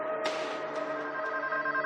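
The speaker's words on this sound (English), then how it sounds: "police get an unexpected phone call" A telephone rings with a steady electronic tone under a clear onset, fairly loud and alone, in a police investigation setting.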